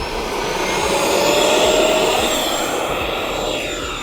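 A battery-powered electric RC F-16 jet model takes off with a steady, loud ducted-fan roar and high whine that holds evenly throughout, close by, with no talking.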